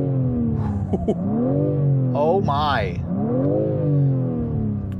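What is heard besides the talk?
BMW six-cylinder engine revving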